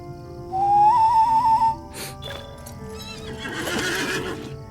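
An Elf Ambassador's Horse mount in the Lord of the Rings Online game gives a loud, wavering whinny, followed by a snort and a burst of hoof clatter as the rider mounts up.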